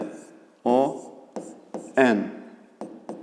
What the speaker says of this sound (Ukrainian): Пишемо кут СОН.